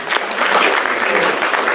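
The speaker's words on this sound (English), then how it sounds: "we give that a round of applause?" A small group claps loudly and close by for lunch at a gathering, a brief, dense burst of applause.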